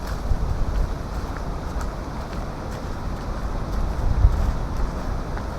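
Steady wind roars across the microphone on a city nature trail in November ahead of a storm, a continuous low buffeting rumble with a gust swelling near the end and no talking.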